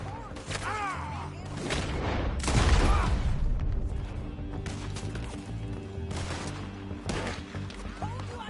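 Gunfire in Red Dead Redemption, a few sharp cracks and a louder burst near the three-second mark, ringing over a busy bed of game music and effects.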